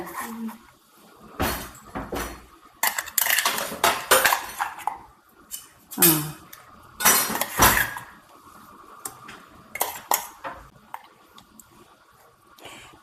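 Ground herbal paste being stirred into coconut oil in a pot for a medicinal hair oil, giving wet squishing and scraping with metal clinks against the pot in irregular bursts, close by, with someone talking at times.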